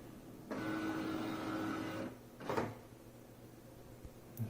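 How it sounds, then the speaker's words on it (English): An HP OfficeJet 8025 wireless all-in-one inkjet printer scans an alignment page: a steady mechanical motor whir with a faint whine runs about a second and a half, then a short clunk and a softer rattle follow. "Now it says scanning the alignment page."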